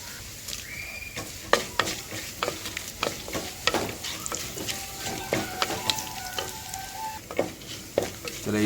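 Green chilies sizzle and crackle in hot oil with cumin and mustard seeds, a steady close frying hiss broken by sharp pops and spoon scrapes against the pan.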